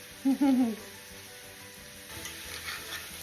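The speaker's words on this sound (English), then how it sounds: "Will you hear that frying?" A steady sizzle of food, peas and onions, frying in a pan, with a brief voiced sound near the start and faint stirring clatter later.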